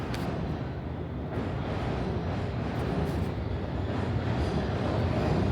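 London Underground Piccadilly Line train heading toward Heathrow, a steady broadband rumble and roar of the train running, continuous and fairly loud without speech.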